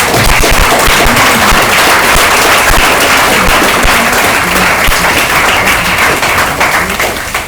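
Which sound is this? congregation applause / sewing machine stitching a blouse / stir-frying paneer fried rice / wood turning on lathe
congregation applause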